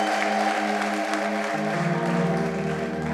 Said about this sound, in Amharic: እስቲ እልልታ ጭብጨባ